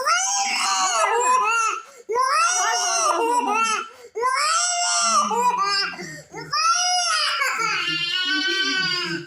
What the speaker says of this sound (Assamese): এয়া তাক বেজী দি দিলে কান্দিছে।